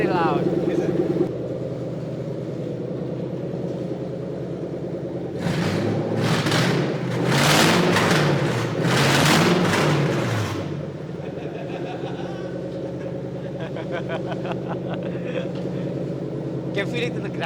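A V8 engine build revs hard through a loud exhaust, with two or three rising bursts in the middle before dropping back to a rumbling idle, and voices talking before and after.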